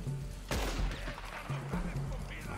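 Several gunshots in the Western video game Red Dead Online, a sharp loud crack followed by further quieter shots and rumbling under low background game noise.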